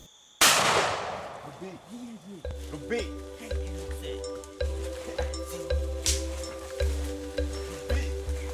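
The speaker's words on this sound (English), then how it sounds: "Malcolm shot quickly with the old one-barrel shotgun" An old single-barrel shotgun fires once in a rainforest, a loud sharp blast that decays into echoes, followed by rhythmic thumping and a voice talking.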